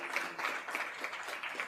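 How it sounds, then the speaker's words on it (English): An audience at an office opening event applauds, a dense steady wash of many hands clapping together, sustained and fairly close throughout. "round of applause"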